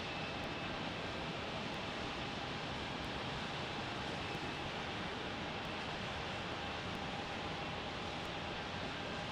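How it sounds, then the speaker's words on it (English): Airbus A321neo airliner heard at night near Salt Lake City airport, a steady broad roar of jet engines that holds level for the whole stretch with a faint tonal whine on top. "Brand new aircraft, an A321neo."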